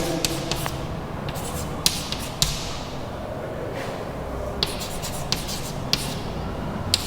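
Marker or pen writing the word "find" on a board, a series of close, sharp scratchy strokes and taps spaced irregularly over a quiet background.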